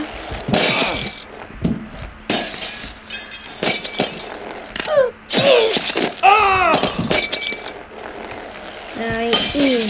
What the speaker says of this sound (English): Glass break.